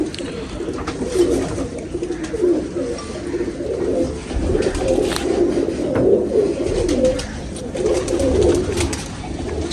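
Pigeons kept in an aviary coo and call continuously as a dense, overlapping low murmur under steady background noise, with no talk.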